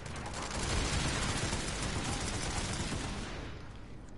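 Sustained, dense gunfire from the PlanetSide 2 video game, a loud, continuous rattle of rapid shots with no gaps, cutting off abruptly at the end.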